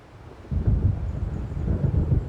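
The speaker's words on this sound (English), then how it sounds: "It seems there's a storm coming." Storm rumble in the video game Alan Wake, a low rolling thunder swell that rises suddenly and keeps churning and booming through the stretch, fairly loud with no voices.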